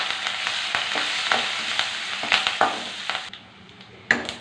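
Cumin, whole spices, garlic, dried red chilies, turmeric and curry leaves sizzle in hot oil in a pan while being stirred, with scraping strokes of the spoon and a steady crackle that thins out toward the end.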